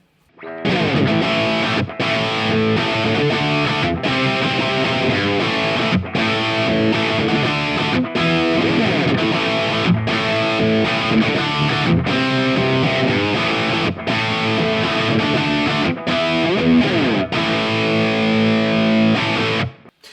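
A heavily distorted electric guitar through an amp plugin's 1987 preset plays a chugging rhythm riff, thick and sizzling, with short stops between chords.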